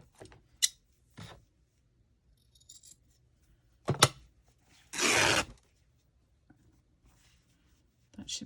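Scissors cutting paper for junk journal crafting: a few short, separate snips and rustles, then one longer, louder slicing cut, all close and quiet, with a voice speaking between them.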